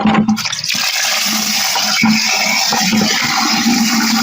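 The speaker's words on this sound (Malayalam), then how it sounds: "നമുക്കിതിലേക്ക് ഇനി 5 ഇരട്ടി വെള്ളം ചേർക്കാം" Water pours into a homemade organic slurry mix for a kitchen garden, a close, continuous rushing splash with a brief choppy start, steady throughout.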